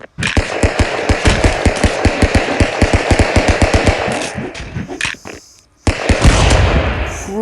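Rapid automatic Uzi fire in the video game Stick Fight, a loud, steady run of about two dozen sharp shots for five seconds, then a short pause before another dense burst of gunfire.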